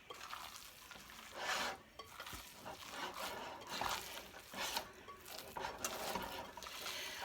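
Meatball mixture is mixed by hand in a bowl, giving soft, faint, wet squelching and squishing in irregular bursts, with no talking.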